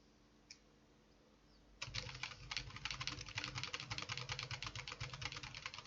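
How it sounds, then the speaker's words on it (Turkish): Quiet room at first, then steady, rapid keyboard typing while playing Tomb Raider starts and continues without a break, close up, with a low hum underneath. "Şu an klavyeden çıkan sesi bir ihtimalle duyuyorsunuz."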